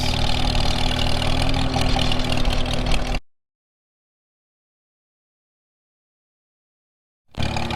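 A tractor engine fitted with an M&W 9-speed transmission and a new carburetor runs loud and steady nearby, then the sound cuts out abruptly for several seconds before the engine noise resumes.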